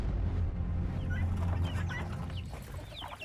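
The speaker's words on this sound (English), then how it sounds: "Right now, I have about 15 chickens and several roosters and 25 guineas." A crowded farm flock of chickens and roosters clucking together, dense overlapping calls close by over a busy background of other fowl.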